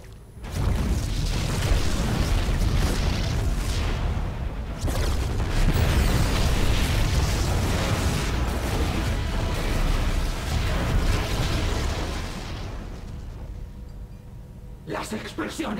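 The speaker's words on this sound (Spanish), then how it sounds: "Las explosiones han cesado." Video game explosions rumble in a long, heavy, near-continuous barrage of deep booms and blasts, loud and sustained for most of the stretch before fading, with voices speaking over it.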